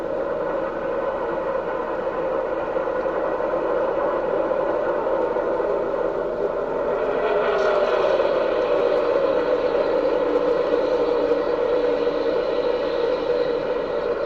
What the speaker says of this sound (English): Listen to that throttle on time.